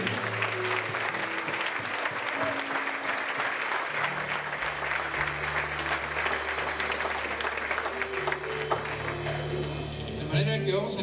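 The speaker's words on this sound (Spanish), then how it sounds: "Un aplauso fuerte" A church congregation gives loud sustained applause during a service, dense clapping that runs throughout, with music tones and voices faintly underneath.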